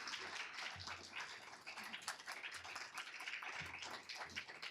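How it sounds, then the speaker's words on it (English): Audience at an annual resident meeting applauding the council, a steady wash of many hands clapping at moderate distance, continuous through the whole stretch with no talk. "let's give the whole council a great round of applause"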